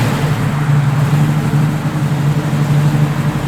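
A 1968 Chevrolet Camaro RS/SS engine runs loud and close with a steady, deep rumble and a slight rise in revs, with no voices over it.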